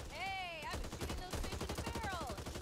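Rapid automatic gunfire bursts in the co-op zombie shooter Back 4 Blood, a quick string of sharp repeated shots mixed with game voices and sounds over a short stretch.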